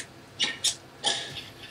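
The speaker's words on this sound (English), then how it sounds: "The sounds you hear are recordings of relay sounds." A few faint, quick clicks of recorded railroad signal relays, three or four close together, snapping against a quiet hiss.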